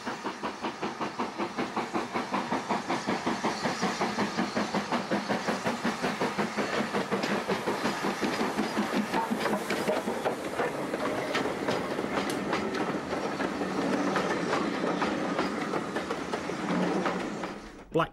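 LMS Black 5 steam locomotive 44806, built at Derby in 1944, running on the Llangollen Railway in North Wales: a rapid, steady rhythmic chuffing and clatter of the train passing close by, loud and sustained before easing at the end.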